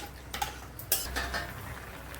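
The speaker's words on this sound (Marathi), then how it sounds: "दही टाकलेलं आपण व्यवस्थित प्रॉपर मिक्स करून घेऊया" A spoon stirs yogurt into a vegetable dish for fasting food, making a few soft scrapes and light clinks against the pot in a brief, close burst.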